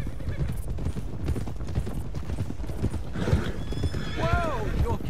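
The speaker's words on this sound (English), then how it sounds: "Get these horses to Clemens Cove, quick, before we run into any more trouble." Horses in Red Dead Redemption 2 clip-clop at a steady gallop with loud neighs and whinnies rising near the end, over a constant rumble of hooves and game ambience.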